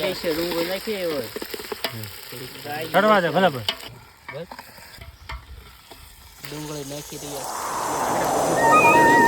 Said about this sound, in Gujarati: આદુ લસણ ની પેસ્ટ ડુંગળી નાખી રહ્યા